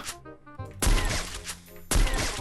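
Gunfire in the Free Fire video game: loud, sharp bursts of shots arrive in two distinct volleys, punching out over quieter game ambience with no talking.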